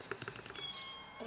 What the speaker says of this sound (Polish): Kot, on wybiegał.